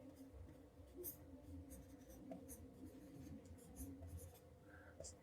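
Handwriting on paper or a board during a physics lesson on capacitors, a string of soft scratchy strokes and taps, close and faint, with no talking.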